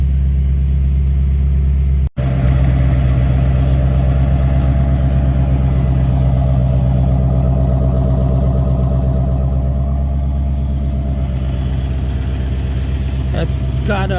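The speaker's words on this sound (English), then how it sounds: "Got a muffler delete, no mufflers at all. Straight pipe." A C4 Corvette with straight pipes and no mufflers idles steadily nearby, a deep continuous rumble with a brief dropout early on and someone talking over it.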